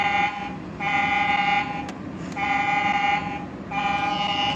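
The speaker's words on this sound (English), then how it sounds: "and there's a horn." Electronic toy horn on a Little Tikes Honda Ridgeline ride-on truck, sounding three sustained buzzy toots in a steady on-off rhythm, close and loud with no talking.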